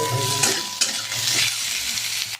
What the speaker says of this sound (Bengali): এটা আগে শুকনো কড়াই ভেজে নেবো।